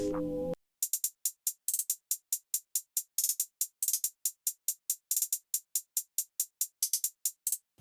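An FL Studio ambient beat without Gross Beat: a quick, regular pattern of bright, crisp high-pitched ticks and hat-like hits repeats steadily after a brief low burst at the start.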